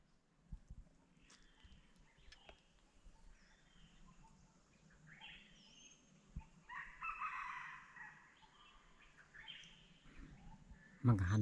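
A jungle fowl crows in the middle of the clip over steady background noise, with faint clucks and a loud thump at the end.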